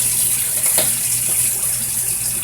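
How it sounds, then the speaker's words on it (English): Running tap water pours steadily while hands are rinsed under it, a constant close hiss and splash with no speech. "I gotta rinse my own hands out."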